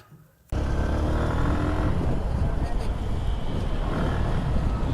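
A second-hand Suzuki X-Blade motorcycle on a test ride, its engine droning loud and steady after an abrupt start, with rushing wind noise throughout.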